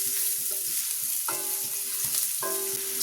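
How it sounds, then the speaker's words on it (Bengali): Chopped onion frying lightly in a pan for white khichuri, a soft continuous sizzle with a few stirring scrapes and clinks of a spatula. "পেঁয়াজ কুচিটা দিয়ে দিই।"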